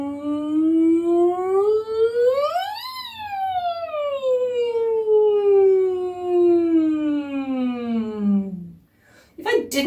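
A lone voice imitates a siren. It slides up from a low pitch to a peak, then glides slowly back down over about nine seconds, loud and close, with a short burst of sound at the very end.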